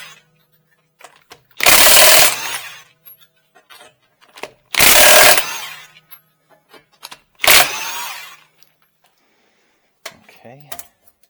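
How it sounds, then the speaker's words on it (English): A DeWalt impact wrench removes lug nuts from the rear wheel of a 2018-2022 Chevy Equinox on a lift, firing in three loud, close bursts of about a second each, separated by quiet handling clatter. "I love my DeWalt impact tool"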